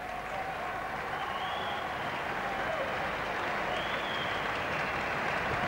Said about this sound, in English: So a cheer there for Holdsworth.